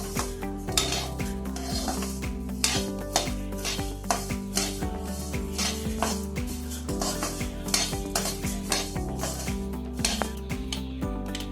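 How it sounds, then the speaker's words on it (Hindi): Coriander being dry-roasted in a pan with spices, a utensil scraping and clinking steadily against the metal in a busy stirring rhythm over a soft sizzle, close and continuous with no talk. "धनिया को भी ज्यादा नहीं भूजेंगे, बस खुशबू आने तक भूजेंगे।"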